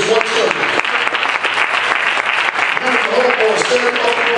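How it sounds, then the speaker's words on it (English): A church congregation claps during an Easter Sunday service, dense continuous applause with a crowd murmur and voices running underneath. "I want y'all to clap hands."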